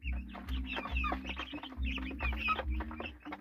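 Chickens and chicks clucking and peeping close by on a farm, a steady busy chatter of cheeps over lower hen clucks with no talk.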